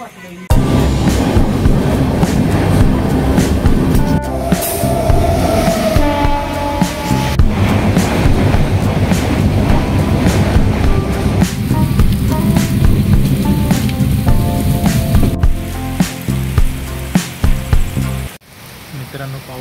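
Heavy rain pours steadily around an Indian passenger train halted for a crossing at a station on the Thane to Ratnagiri route, with a loud continuous wash of rain, mechanical rumble, a horn-like tone and occasional voices.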